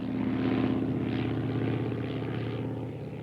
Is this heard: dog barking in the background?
no